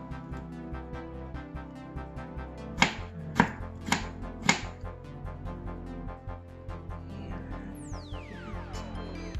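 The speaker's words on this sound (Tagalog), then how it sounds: "So, hiwain ng maliliit na cubes ang patatas. Circular naman ang sibuyas." A knife chops potatoes into small cubes and an onion into rings for corned beef. Four sharp, close chops land in an even rhythm over steady background music.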